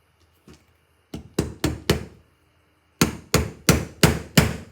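A single light tap, then two quick sets of four crisp hammer blows on a small tack, evenly spaced with a short pause between, close up.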